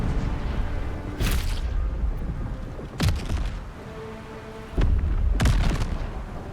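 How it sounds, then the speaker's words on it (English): Explosions in Baldur's Gate 3 come as three heavy booming blasts a second or two apart over a dense, steady game soundscape, loud and close with rumbling tails. "Yep, everything's exploding."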